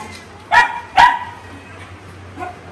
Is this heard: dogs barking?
yes